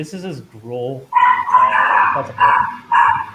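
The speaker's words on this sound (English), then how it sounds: "that's a dog." A dog barks and yips several times in quick bursts, close and fairly loud, mixed with a voice talking over it.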